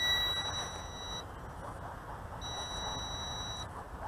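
A RUKO U11 Pro quadcopter drone on its return-home flight gives out two long, steady high-pitched beeps, separated by a pause, over a constant background hiss.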